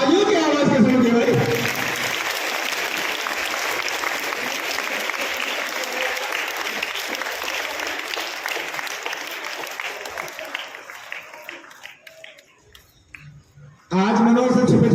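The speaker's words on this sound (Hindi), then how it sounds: "कि तालियों की आवाज कैसे होगी भाई?" Sustained audience applause fills a hall at a school prize event as the first rank is announced, loud and steady for over ten seconds before fading out, with a voice speaking at the start and resuming after a brief silence.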